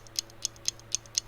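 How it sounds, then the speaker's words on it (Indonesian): Ticking of a clock's hands: five crisp, evenly spaced ticks about a quarter second apart, close and moderately quiet against a faint low hum. "suara jarum jam 30 desibel"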